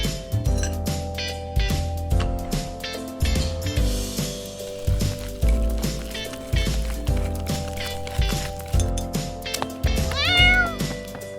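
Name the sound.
cat meowing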